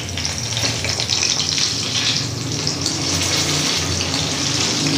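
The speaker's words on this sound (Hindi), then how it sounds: "जब इसमें से ये पानी की आवाज़ ख़त्म होगी तो समझे कि आपके कबाब रेडी" Chicken kababs sizzle steadily on a hot tawa, a dense, even hiss and crackle of frying moisture that carries on for several seconds up close, with no voices over it.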